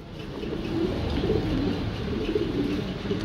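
Pigeons cooing at a pigeon sale, soft repeated low coos layered over a steady background murmur, close and continuous throughout.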